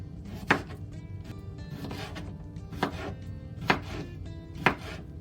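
A knife chopping peeled carrots into small rounds on a cutting board, four or five separate sharp chops spaced unevenly over a low background rustle.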